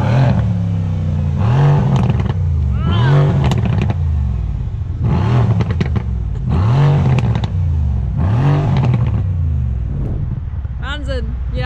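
Porsche GT3 revved hard at close range: a series of loud, rising engine blips, each climbing and falling back, repeated about six times over a steady rumbling idle.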